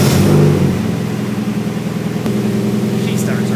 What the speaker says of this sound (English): And now, let's start the car.